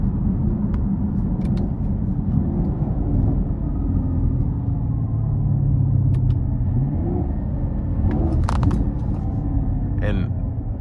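A 2022 Chevrolet Camaro 1SS 1LE driving, heard from inside the cabin as a steady low engine and road rumble with a few brief clicks and knocks over it.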